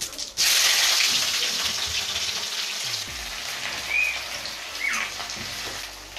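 Onion sizzling and frying in hot oil in a pan, with bay leaf, cinnamon, cloves and cumin already in, a steady close hiss continuing throughout with a few faint chirps over it.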